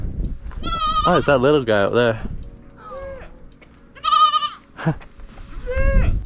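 Goats bleat loudly nearby in Oman, several wavering cries in a row, while someone speaks briefly between them outdoors.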